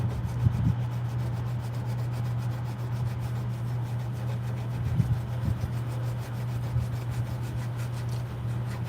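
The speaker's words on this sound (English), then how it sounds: "I am at 800 grit, and the fret is just going to get smoother and smoother and smoother as I go up the grits" A guitar fret rubbed with 800 grit sandpaper makes a steady close scratching hiss in quick repeated strokes, over a constant low electrical hum.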